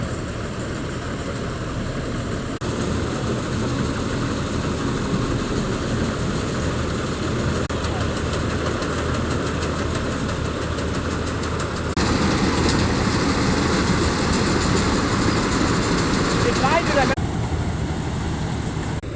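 Grain harvester working a village field, a continuous, loud, low engine drone with mechanical rattle that holds steady throughout and grows slightly heavier partway through.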